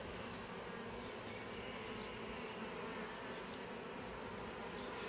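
Unbroken droning hum of a honey bee swarm clustered on a branch and being captured into a box late in the evening, many wings buzzing together at an even level, close by and without any talk.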